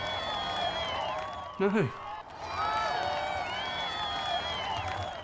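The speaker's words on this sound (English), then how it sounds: "That same f***ing crowd cheering, on a loop, the entire f***ing time." A looped stock crowd cheering effect plays continuously at steady loudness, a dense roar of voices with whoops and claps, briefly broken by a short swooping burst before the crowd swells back.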